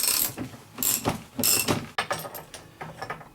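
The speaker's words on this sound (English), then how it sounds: "you can now release the compressors. Do this evenly both sides, the same as the tightening, and take it slowly" Coil spring compressors on a Vauxhall Vectra B front suspension are slowly backed off, giving a series of close, uneven ratcheting clicks in short bursts with pauses between, and no voices.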